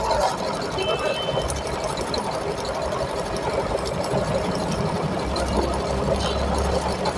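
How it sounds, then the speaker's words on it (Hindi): A Juki sewing machine runs at high speed doing double stitching with two threads, a continuous dense mechanical whir that stays steady and loud throughout, with a faint hum of background noise. "डबल सिलाई कर रही है, देख रहे स्पीड, देख रहे उसकी हाई स्पीड मशीन है ये"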